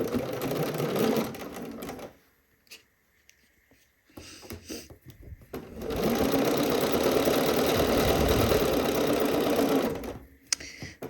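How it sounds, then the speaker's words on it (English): A sewing machine sews the side seams of a Cashmerette Loring dress at a half-inch seam allowance, whirring steadily in two close runs separated by a quieter pause. "let's go to the machine and sew these side seams"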